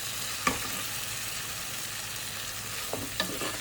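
An onion mixture for chicken curry is stirred in a sizzling pan, with a steady frying hiss throughout and a few sharp spoon scrapes against the metal.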